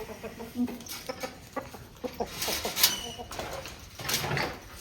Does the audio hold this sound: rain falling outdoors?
no